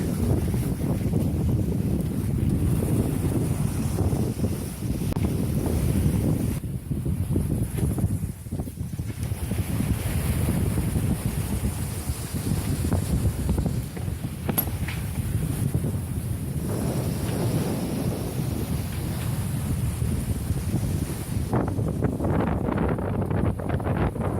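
Sailboat running downwind at about eight knots on an ocean crossing, with steady rushing wind buffeting the microphone and waves washing along the hull, continuous and fairly loud with no talk.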